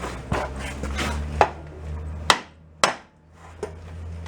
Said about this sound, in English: I gotta hammer it back a little before we go any further.